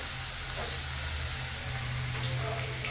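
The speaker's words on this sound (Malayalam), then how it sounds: "സവാള, എടുത്ത് വെച്ചിരിക്കുന്ന ഗരം പട്ട, പച്ചമുളക്, ഇത്രയും കൂടി ആഡ് ചെയ്ത് നന്നായിട്ടൊന്ന് വഴറ്റി കൊടുക്കാം." Sliced onion, green chili and cinnamon sautéing in a pan make a loud, even sizzle close by that holds steady throughout, with faint scrapes and no speech.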